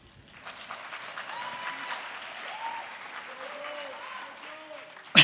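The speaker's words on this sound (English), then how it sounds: "clap loud so I know you're out there" A theater audience claps loudly and steadily in a dense wash of applause that rises briefly before fading, with a voice speaking over it.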